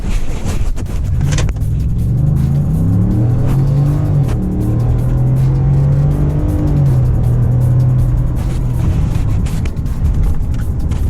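A 2018 Ford F-150 with the 5.0-liter V8 in four-wheel drive accelerates hard from a standstill to sixty, its engine note loud and close, rising steadily through the gears with brief dips at each shift.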